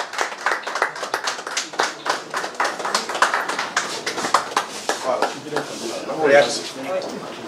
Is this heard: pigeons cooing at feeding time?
no